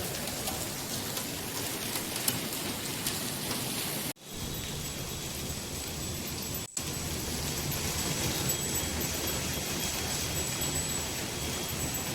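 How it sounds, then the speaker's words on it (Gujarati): Heavy rain pours steadily in the early morning, a dense unbroken hiss with drops drumming on surfaces, broken by two brief near-silent cuts before the downpour resumes at full strength. "પણ વરસાદ બંધ થાય એવું લાગતું નહીં આજે"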